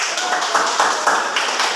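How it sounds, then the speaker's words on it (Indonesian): Children clap their hands during a school group guidance session, a brisk, close run of claps over about two seconds, with voices mixed in. "Tepuk tangan dulu."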